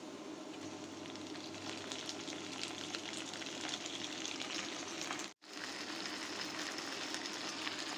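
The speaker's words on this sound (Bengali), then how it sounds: "পেঁয়াজ গোল্ডেন ব্রাউন করে ভেজে নিলাম। দিয়ে দিচ্ছি মাংসগুলো।" Beef added to golden-brown fried onions for a spicy Bengali beef bhuna sizzles steadily in the pan with a dense, even crackle, faint and close, cut by a brief silent gap near the end.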